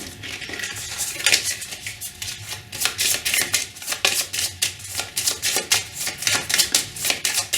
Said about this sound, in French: on mélange les cartes avec l'as qu'on a choisi